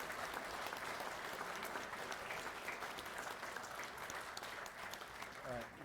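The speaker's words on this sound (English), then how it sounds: "Let's give these outstanding posts a nice round of applause." Sustained audience applause at a department convention session honoring membership posts, a steady dense clapping texture from a large crowd filling the whole stretch without a break.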